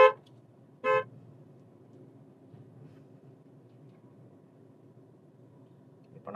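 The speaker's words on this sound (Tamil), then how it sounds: "ஒரு முறை ஹார்ன் அடிச்சிருங்க." A car horn gives two short honks during a driving lesson on a road, the first at the very start and the second about a second later, followed by quiet engine hum and a faint third toot at the end.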